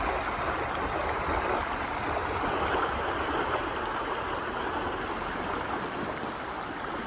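A river flows steadily close by, a continuous broadband rush and gurgle of water with no pauses, at an even moderate level.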